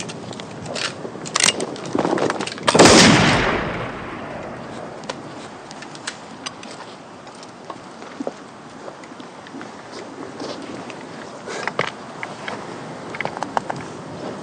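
A single loud musket rifle shot bursts out near the start of a period military drama scene, then a long fading rumble and ambient outdoor noise with scattered small knocks.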